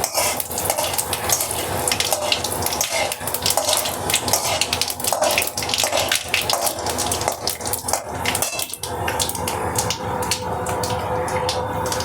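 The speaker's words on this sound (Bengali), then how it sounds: "তেল গরম হয়ে গেছে, 5 ফোড়ন দেবো। ভাই, গোটা শুকনো লঙ্কা, তেজপাতা আমি ফোড়নে দিয়ে দিলাম।" Whole dried red chillies and bay leaves sizzle in hot oil for a Bengali pumpkin dish, a dense, close, continuous crackling hiss with occasional clinks from the pan.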